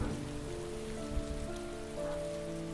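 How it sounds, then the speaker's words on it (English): Heavy rain from the video game Heavy Rain pours down steadily on a surface, a dense continuous hiss with faint droplet patter, alone with no voices. "Ugh, the rain is so heavy."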